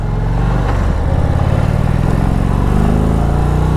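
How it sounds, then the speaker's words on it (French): An Indian motorcycle engine revs hard and climbs in pitch, loud and close, with a steady rough roar throughout and no voices. "Ah, grosse accélération. Et alors le son, waouh!"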